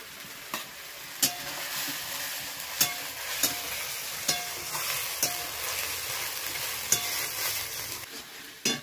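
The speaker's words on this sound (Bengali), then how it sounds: "বাটা মশলাগুলো খুব ভালোভাবে কষিয়ে নিয়েছি।" A ground spice paste with onion, garlic and chopped tomato fries in a pan for an egg curry, a continuous moderate sizzle broken by regular sharp scrapes and knocks of a spatula stirring.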